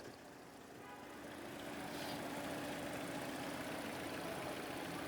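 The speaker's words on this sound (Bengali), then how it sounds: "বর্তমানে স্টার্টে আছে গাড়িটা" A seven-seater SUV engine idling at a car showroom, a steady low rumble that swells slightly at the start and then holds even, moderately close.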